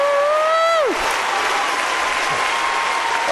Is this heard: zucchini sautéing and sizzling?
no